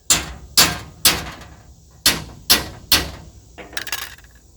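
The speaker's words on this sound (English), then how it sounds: "Now this is where that hammer comes in." Six sharp metallic hammer strikes on a locomotive ring out at a steady pace, each decaying quickly, followed by a lighter rattling clatter.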